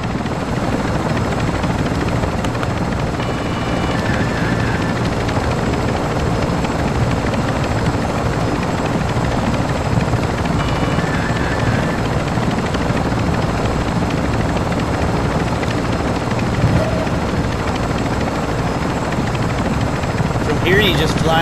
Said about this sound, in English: that helo is fueled and ready to provide exfil